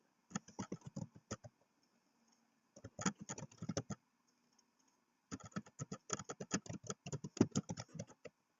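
Fingers type on a computer keyboard in quick clusters of clicking keystrokes, close and fairly quiet, in three bursts separated by short silences.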